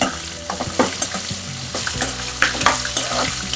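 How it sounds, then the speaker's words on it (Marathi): Green chillies sizzle and crackle in hot oil as they are stirred into a pan of frying poha chivda, with steady frying hiss and repeated close stirring scrapes. "आता आपण मिरच्या टाकू आधी."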